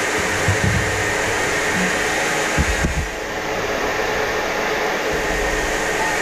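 A hair dryer blows steadily and loudly while drying a ferret after its bath, a constant close whooshing drone with a few faint low bumps.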